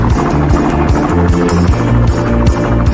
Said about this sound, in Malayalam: ഹെലികോപ്റ്റർ എത്തി.